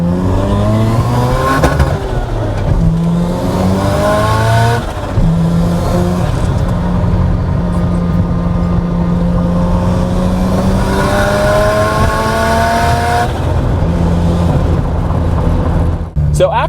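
A turbocharged car fitted with a Precision turbo revs hard through a pull, engine pitch climbing and falling in long sweeps across the whole stretch, loud and close with no one talking.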